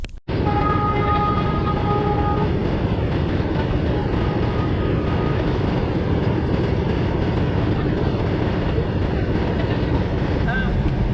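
A train rolls past a small-town railway crossing in India, a loud, steady rumble of wagons with clattering and rail noise held for the whole stretch, with faint tonal squeals above it.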